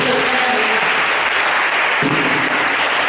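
A church congregation at a Sunday service applauds loudly and continuously, dense close clapping filling the room, with a few faint voices mixed in.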